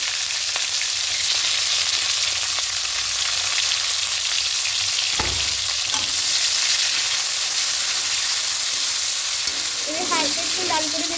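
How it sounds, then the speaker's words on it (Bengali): A whole large chopped onion hits hot oil with tempered spices in a pan while cooking a prawn ghonto with spinach and bottle-gourd greens; a loud, steady sizzle runs throughout with occasional stirring scrapes. "ঠিক এই সময়তে পেঁয়াজ কুচি দিয়ে দেবো।"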